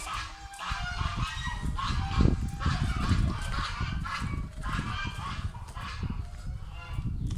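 A flock of geese honks loudly and continuously, overlapping calls crowding together nearby.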